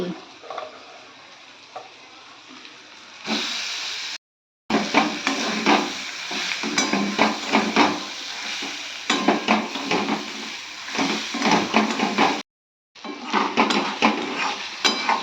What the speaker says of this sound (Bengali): আর এবার আমি পটলগুলো এর মধ্যে ঢেলে দেবো